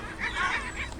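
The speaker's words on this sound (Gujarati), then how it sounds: "seagull," A seagull lets out a single short, nasal, squawking call lasting about a second. It is clear and fairly close, with no other sounds around it.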